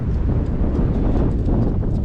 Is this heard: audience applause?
no